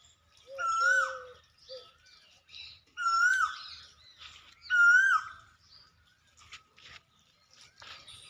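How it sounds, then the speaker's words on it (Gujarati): An Asian koel calls near a hillside village temple with three clear, loud, repeated notes spaced about two seconds apart, followed by softer chirps and faint background noise. "સરસ મજાનો કોયલનો અવાજ સંભળાઈ રહ્યો છે તમને"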